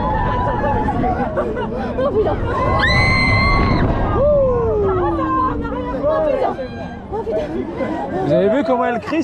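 A woman screams on an amusement park ride at Parc Astérix, high piercing cries rising over loud crowd chatter and shouts from nearby riders.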